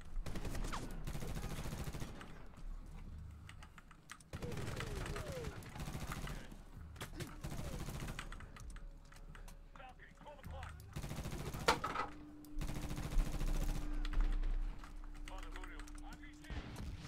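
Gunfire in Medal of Honor (2010), Afghanistan setting: bursts of rapid automatic shots come in several separated volleys, mixed with keyboard clicking, while someone talks throughout.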